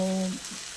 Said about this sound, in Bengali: পেঁয়াজ ভাজা হলো, মশলাটা ফোড়ন দিলাম।